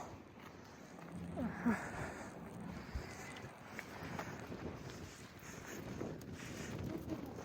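Low, gusty rumble of wind buffeting the microphone, rising and falling unevenly, with faint distant sounds beneath.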